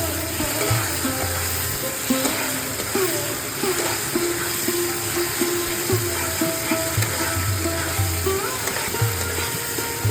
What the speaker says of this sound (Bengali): মশলাটা খুব সুন্দরভাবে আবারও কষিয়ে নেব কিছুক্ষণের জন্য